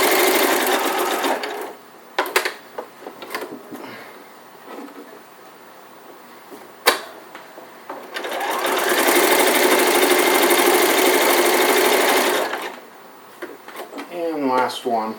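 A sewing machine stitches an elf hat in several bursts: short runs and pauses early on, then a long steady whir of about four seconds, with handling clicks between runs and a voice at the end.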